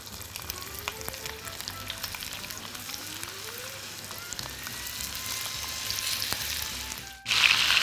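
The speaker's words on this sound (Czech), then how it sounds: "A opeču ze všech stran." Floured beef shank sears in hot lard with a continuous close sizzle and fine spattering crackle that builds slightly louder toward the end.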